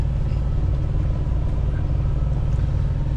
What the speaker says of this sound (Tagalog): Yang expressway, nakikita nyo may mga tumatakbo na sasakyan yan,